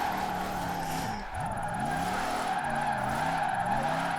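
A Jeep Gladiator in Forza Horizon 4, all-wheel drive with no drift suspension, slides down a mountain: a steady engine drone with wavering tire scrub and skid squeal throughout, continuous and fairly loud, with no talking.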